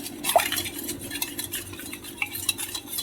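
A spoon stirs khaman dhokla batter in a bowl with repeated scraping strokes and a few light clinks against the side, close up and without talk.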